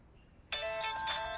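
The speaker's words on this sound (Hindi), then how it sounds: "ये उसी का फोन है." A mobile phone in a scene from the 2025 Hindi action film Sikandar, starring Salman Khan, starts ringing abruptly after a brief quiet, giving a bright, sustained electronic ringtone.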